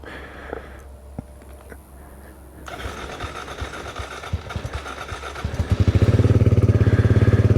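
A Kawasaki Z125 Pro with a slip-on exhaust and O2 eliminator cranks over with a few stuttering coughs, then catches and settles into a steady, throbbing cold idle, close and loud.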